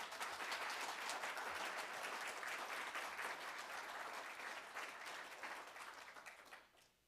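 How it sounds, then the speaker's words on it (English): Dense, steady applause from a convention audience at a reparations gathering fills the room at close range, holding loud and even before tapering off in the final second. "Give him a round of applause."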